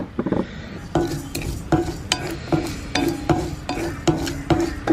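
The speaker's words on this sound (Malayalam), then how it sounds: "നമ്മൾ മല്ലിയും മുളകും വറുത്തു കേട്ടോ" Coriander seeds rattle and scrape in a dry pan as they are roasted and stirred, with regular scraping strokes about once a second, close and fairly loud.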